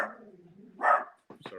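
A pet dog barking at home during a live online chat show: one loud bark in the middle and a couple of quick yips at the end, with a voice speaking nearby.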